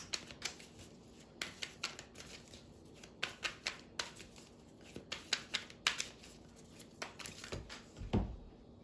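Oracle cards from an angels and ancestors deck are shuffled close by in a steady rhythm of light, crisp slaps and riffles, with a slightly heavier bump near the end.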